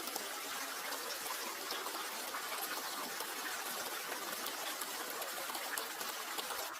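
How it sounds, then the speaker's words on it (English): Mountain spring water bubbling up from the ground, a faint, steady trickling hiss with no other sounds. "This spring is a natural water source bubbling up from the ground."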